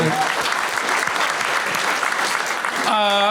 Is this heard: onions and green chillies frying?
no